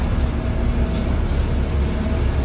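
Train station in central Buenos Aires heard as a dense, continuous low rumble of rail traffic and crowd ambience, steady and loud throughout without distinct events.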